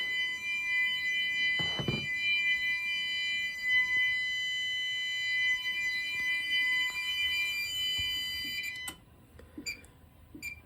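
A fire alarm panel on a Potter PFC-6075 system sounds during a heat detector test, a loud steady tonal alarm held for about nine seconds before cutting off, leaving quiet room noise and a few faint clicks.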